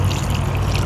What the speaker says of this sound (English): I'm just going to pour it over my meat.